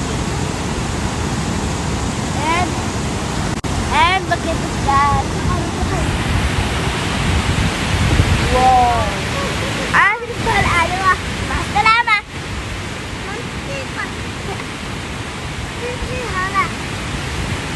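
A loud, constant rush of falling water at Niagara Falls fills the scene, with people talking and exclaiming over it nearby.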